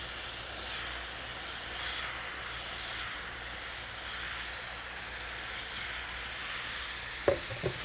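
Diced plums sizzle in a pan with toasted coconut and spices for an Indian chutney, a steady soft hiss with faint pulsing swells throughout and a couple of sharp clicks near the end.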